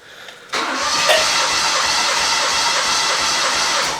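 A Honda car engine cranks over steadily with its fuel injectors disconnected and a compression tester fitted, a loud, continuous, rhythmic churning that starts abruptly after a short pause and keeps turning without catching.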